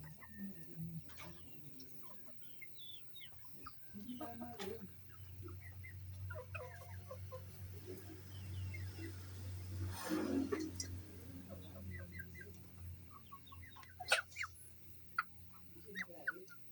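Chickens cluck in short scattered calls at moderate distance among other faint bird sounds, over a low steady hum throughout, with a few sharper clucks near the end.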